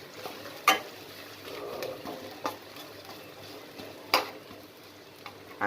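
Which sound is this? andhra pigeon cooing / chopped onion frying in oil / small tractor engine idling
chopped onion frying in oil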